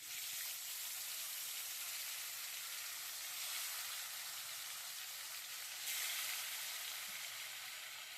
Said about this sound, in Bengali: কড়াইতে গোটা গরম মশলা ফোড়ন দিয়ে মাংসটা বসিয়ে দেব।